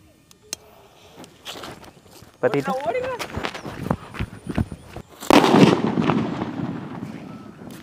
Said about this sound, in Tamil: குண்டு சின்னதாக இருந்தாலும் சும்மா சொல்லக்கூடாது சவுண்டு சும்மா பட்டே கலப்புது